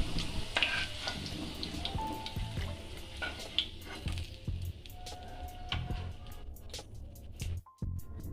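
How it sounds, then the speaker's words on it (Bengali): Potato pieces fry in hot oil until reddened, a continuous close sizzle with scattered pops and crackles and occasional stirring scrapes, no voices. "দেখুন আলুটাও লাল লাল করে একটু ভেজে নিলাম"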